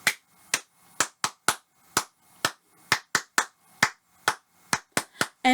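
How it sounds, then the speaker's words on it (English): Young children clap along in time to a song, a brisk run of sharp, close hand claps at a steady rhythm with no talking. "And we're going to clap."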